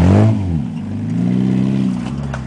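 A car engine revs hard then settles into a steady drone while being driven on a damp dirt track, loud and close from inside the car, with no speech.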